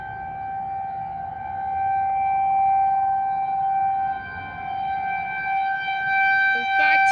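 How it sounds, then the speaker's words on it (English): A 3T22 civil defense siren sounds a high-low signal in the distance, holding steady tones with a faint shift in pitch, over low outdoor background noise. "I think I can hear the 3T22 doing high-low signal."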